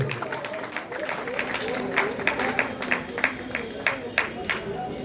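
An audience claps loudly to welcome a teacher at a Teacher's Day celebration in Bhagalpur, a dense run of hand claps sustained over several seconds with voices mixed in.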